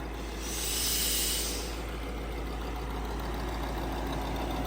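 A new homemade Bizon tractor on its first drive, its engine running in a steady low idle-like drone with a brief hissing swell near the start, no talking.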